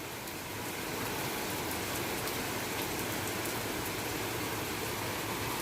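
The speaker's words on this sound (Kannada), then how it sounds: "ಮಳೆ ಬಂತು" Rain falling steadily outdoors, a dense, even hiss of drops on surfaces that stays loud and unbroken throughout with no voices.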